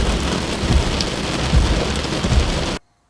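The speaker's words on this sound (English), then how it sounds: "it started to pour rain" Heavy rain pours down in a dense, steady hiss with low rumbling thumps beneath, loud and close, before cutting off abruptly.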